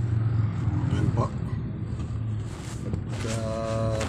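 Manual car engine idling then pulling away in first gear, a low steady drone with rising tonal hum near the end as revs climb, heard under an instructor's talking.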